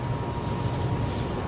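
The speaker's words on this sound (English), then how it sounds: "Sorry for the furnace noise. It's loud." A steady, low rumbling drone fills the space without pause, like a furnace running loudly nearby.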